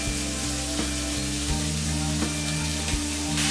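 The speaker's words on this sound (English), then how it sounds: "we're going in with our steaks" Steaks sizzling in a hot pan while being cooked for a francesinha sandwich, a loud, steady crackling fry with a few soft stirring knocks and no voices.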